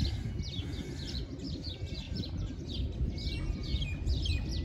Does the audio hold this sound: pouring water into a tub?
no